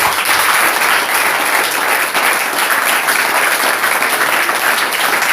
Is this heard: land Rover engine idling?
no